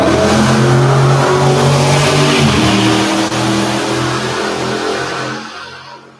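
A petrol car engine revs hard and loud nearby, roaring steadily before dropping away and fading out near the end.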